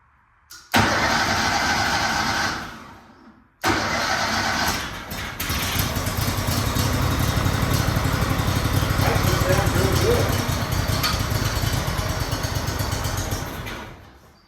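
The engine of a 22-year-old Walker MTGHS mower sputters to life, cuts out briefly, then restarts and runs steadily at a loud, rough idle for several seconds before stopping.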